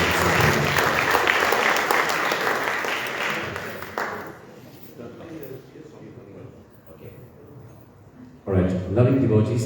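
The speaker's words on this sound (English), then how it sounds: "Let's give Thiruviyasan a round of applause." Audience at a Saiva Sithantha Sungam 85th anniversary function gives a loud round of applause for the vice president, dense clapping that fades after a few seconds, then swells again near the end.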